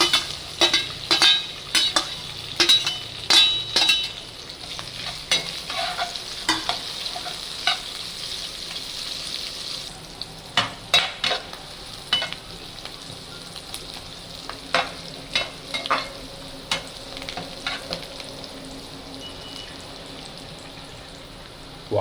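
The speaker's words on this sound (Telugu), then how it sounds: "ఆనియన్స్ వేసి కొద్దిగా అల్లం కొద్దిగా వేగిన తర్వాత" Chopped onions and ginger fry in a pan for upma and are stirred with a spoon. A steady close sizzle runs under repeated sharp scraping strokes, with no talking.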